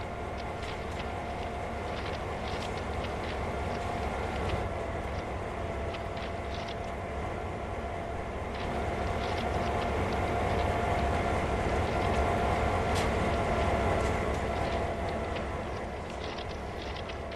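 A locomotive in Train Sim World, standing in the NEC New York rail yards, gives off a steady, continuous low rumble and hum that holds throughout with only slight swells in level, with no talking.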